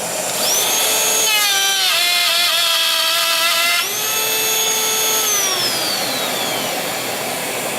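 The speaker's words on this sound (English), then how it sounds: "Dusty on, router on." A trim router cuts a circle while a dust extractor runs alongside, producing a loud, close, continuous high-pitched motor whine whose pitch dips and rises as the bit bites into the work.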